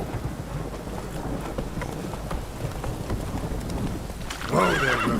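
Roach the horse in The Witcher 3 snorts and neighs over a steady clip-clop of hooves, with a louder whinny rising near the end against rumbling ambient weather.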